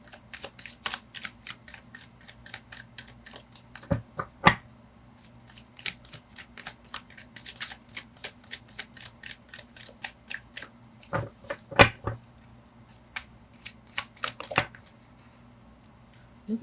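Tarot cards being shuffled and drawn, giving a quick run of soft riffling flicks and light snaps with a few sharper card slaps, close and fairly quiet, with no talking.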